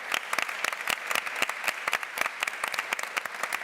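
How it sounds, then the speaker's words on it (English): A design festival audience applauds a speaker, with crisp, close individual claps standing out over a steady bed of clapping for the whole stretch and no talk. "A round of applause, please, for Sonia."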